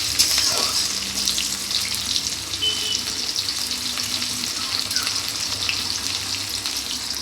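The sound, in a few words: onion and five-spice seeds frying in a pan while stirred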